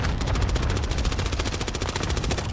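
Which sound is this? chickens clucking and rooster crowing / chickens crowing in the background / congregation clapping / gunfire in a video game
gunfire in a video game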